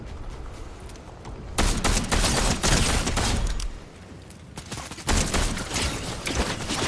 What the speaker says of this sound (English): Someone else is shooting that way